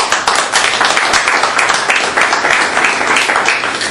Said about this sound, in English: I think you deserve a round of applause too for all the service